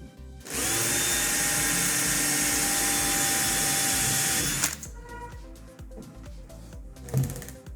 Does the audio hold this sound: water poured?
no